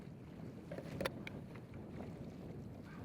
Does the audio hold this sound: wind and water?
yes